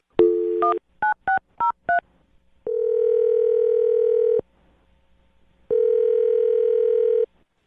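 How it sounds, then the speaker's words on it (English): Telephone keypad tones beep quickly in a run of about five short presses, followed by two long, steady ringback tones separated by a pause, loud and clean with no talking. "I'm going to dial her phone number right now"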